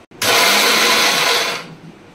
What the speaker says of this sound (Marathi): आता मिक्सर लावता